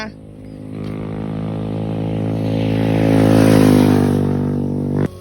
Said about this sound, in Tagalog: Bilisan mo, may motor.